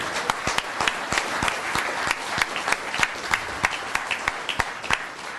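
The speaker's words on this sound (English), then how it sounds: "So let's give them a round of applause." Applause at a town council meeting honoring a local nail salon business, a modest room of people clapping steadily with distinct individual claps, fairly close and sustained throughout.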